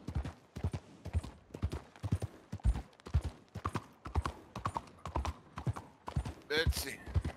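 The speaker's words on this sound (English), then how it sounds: "Your horse is stumbling." Horse hooves in Red Dead Redemption 2 Online on PC give a steady, close clip-clop with a brief whinny near the end, while players talk over it.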